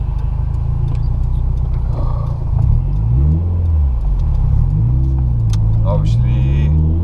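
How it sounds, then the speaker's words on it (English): Car engines rumble on a town street in Tallinn, Estonia, with a close engine rising and falling in pitch as it revs and other traffic moves nearby, loud and steady throughout. "There's cars coming, so I'm just gonna take it easy."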